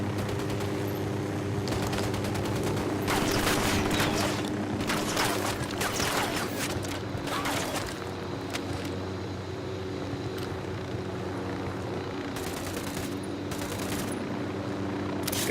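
A helicopter in Ghost Recon Wildlands, its continuous droning rotor and engine hum filling the background, with several bursts of gunfire or chopping noise over it, steady and fairly loud throughout.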